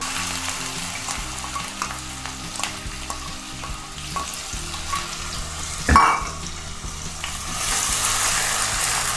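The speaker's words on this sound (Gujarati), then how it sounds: "ડુંગળીને સારી રીતે ચડવા દઈશું।" Onions sauté in olive oil in a kadai for pizza sauce, with a steady dense sizzle throughout, one loud scraping stir near the middle and a brighter hiss swelling at the end.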